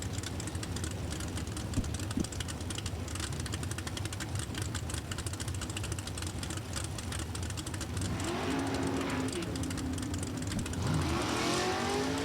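Chevy-powered Super Gas drag cars, including a 581-cubic-inch Beretta, roar at steady full throttle down the strip at National Trail Raceway, a loud continuous engine drone heard at a distance with a rising whine near the end.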